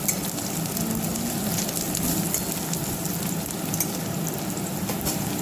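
Potatoes for a Bengali-style aloo dum fry in hot oil with a constant, even sizzle and no talk.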